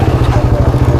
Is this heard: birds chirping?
no